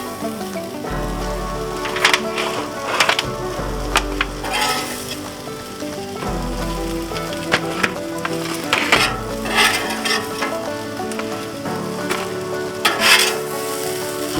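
Hot dogs sizzle steadily as they brown slowly in a pan, with continuous close frying crackle broken by scraping, stirring and occasional utensil clinks against the cookware, no voices.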